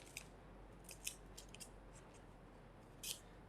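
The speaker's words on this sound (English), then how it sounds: "And I'm also going to cut this, so I just got half a piece" Scissors snip through a strip of foil tape during Valentine's card crafting, a few quiet, crisp cuts spaced irregularly over a soft background hum, with a slightly longer snip near the end and no talking.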